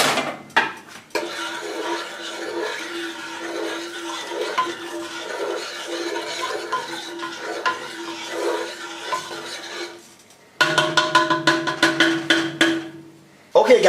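Salt, sugar and pepper being stirred into a pot of mac and cheese, with rhythmic scraping and squelching strokes, a short pause, then quicker clinking strokes of the spoon against the pot.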